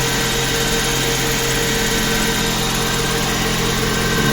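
Car engine idling smoothly and evenly after repair of a lean-mixture fault on cold start, a steady, loud, close hum with constant vibration and no variation, with no talk.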